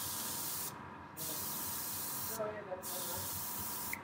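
A Ninesteps airbrush hisses in short bursts while spraying small paint dots, each steady spray cut by brief pauses, close up, with a voice talking faintly beneath it.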